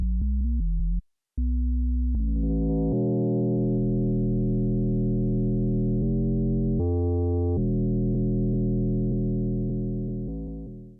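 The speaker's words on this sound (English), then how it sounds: "We'll mangle this basic tone by adding some frequency modulation to it using the modulator module with a sine wave set to plus 24 semitones." Pigments 4 synth tone with a sine-wave FM modulator set to plus 24 semitones, a steady harmonic buzzy tone held alone for about eleven seconds, shifting pitch in a few steps and fading at the end.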